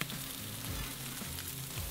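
Salmon wings frying skin-side in a hot pan for a Buffalo recipe, a steady close sizzle with crackling pops throughout, loud and continuous with no talking.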